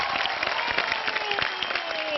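Studio audience applause on a Bigg Boss TV show stage, greeting the host and a young dancer judge named Gunjan: steady, dense clapping throughout, mixed with music and a voice speaking over it.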